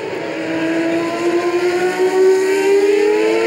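Superleague Formula race cars, including the Roma, Eindhoven and Sevilla entries, scream past at high revs, one loud engine note climbing steadily in pitch as it accelerates close by, with no talk.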